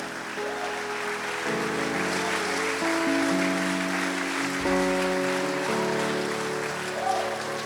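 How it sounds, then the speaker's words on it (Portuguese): A church congregation applauds in the name of Jesus, a steady wash of clapping under sustained keyboard chords that shift pitch, filling the room at a moderate level. "Se você pode aplaudir o nome do Senhor Jesus"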